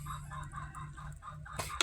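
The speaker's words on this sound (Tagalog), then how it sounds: "Malaking manok to kasi shamo." A large Shamo chicken clucks softly in a few short, quiet bursts, with a sharper squawk near the end.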